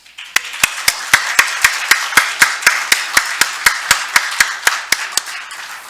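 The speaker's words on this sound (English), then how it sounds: "How about if we give them a round of applause?" Rhythmic, evenly spaced clapping at a Rotary holiday concert gathering, about twenty sharp, loud claps in a steady beat, close and crisp, tapering off at the end.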